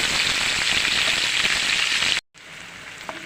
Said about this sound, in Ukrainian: закидаємо сюди цибулю. Жаримо до золотистого кольору.